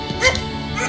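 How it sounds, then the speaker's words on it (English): A dog character named in a Neverness To Everness side quest gives a short, close yip or whimpering bark, a single brief canine sound. "Where have you been, you bad doggy?"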